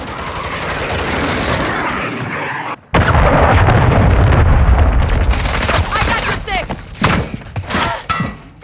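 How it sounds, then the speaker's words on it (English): Cruise missile explosion in the video game Call of Duty Modern Warfare 3, a loud sustained blast that cuts out briefly and then swells into a second heavy rumble, followed by scattered smaller bursts and pops. "Friendly cruise missile deployed."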